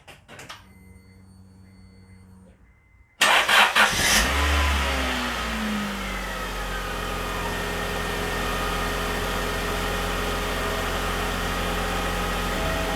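A 2005 Honda Civic engine cranks and catches at about three seconds, then settles into a steady, fairly smooth idle that runs on close by, loud and alone.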